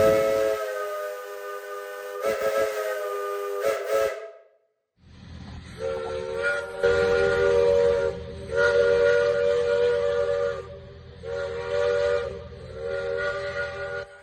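The repaired steam whistle of the Dixiana locomotive sounds at Roaring Camp among redwoods, giving a chorded, harmonic blast, then a few short toots, then a rougher, hissing whistle in repeated long blasts.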